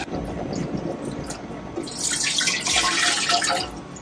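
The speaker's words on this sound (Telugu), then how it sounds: "ఇప్పుడు ఇందులో మనం వాటర్ పోసుకుందాం." Water is poured into a vessel outdoors, a rushing splash that swells and grows brighter partway through, with light wind noise behind it.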